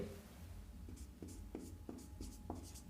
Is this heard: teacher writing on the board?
yes